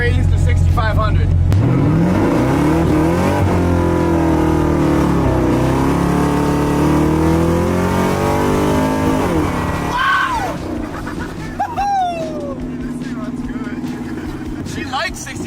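Blown (supercharged) car engine revving hard toward a 6,500 rpm rev limiter, a loud close roar climbing and holding, then dropping, with speech partly over it and some squealing at the end.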